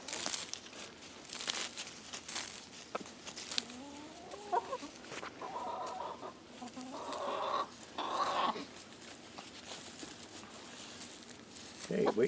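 Chickens cluck and murmur softly nearby, with scratching and rustling in the woodland leaves under a quiet outdoor background.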